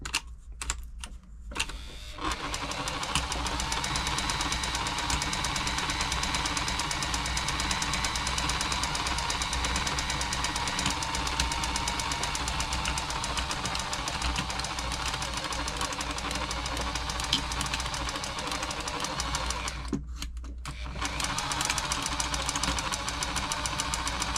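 A Bernette b35 sewing machine runs continuously after oiling, producing a loud, steady mechanical clatter and knocking hum that stops briefly near the start and again near the end.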